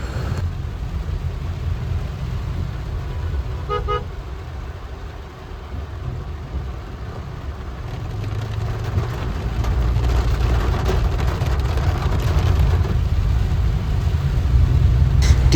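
Heavy rain with large drops drums steadily on the roof of a car driving through Dhaka, heard from inside the cabin as a dense, continuous patter over low road rumble that swells louder toward the end.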